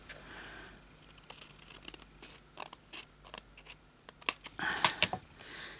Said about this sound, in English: Look how badly cut out that is, Sonya.